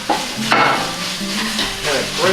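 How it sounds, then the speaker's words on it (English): Pork sausage meat sizzles and crackles in a preheated pan, a steady hiss with scattered spattering pops and a few scraping knocks as it is broken apart, with no talking. "I've already preheated the pan, so it should start sizzling right away."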